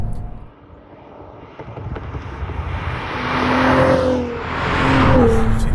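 A Cadillac CT4 Blackwing sports sedan engine rumbles and revs up with a loud, rising exhaust note, building in intensity over several seconds.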